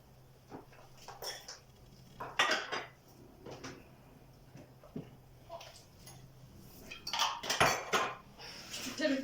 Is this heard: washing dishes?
yes